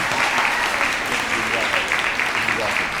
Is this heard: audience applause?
yes